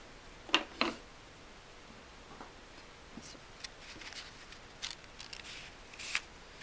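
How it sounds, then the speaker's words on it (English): Scissors snip through a single sheet of paper along drawn lines for a 3-D ornament, a few quiet, sharp cuts spaced irregularly in a hushed room. "So now we need to cut on those lines."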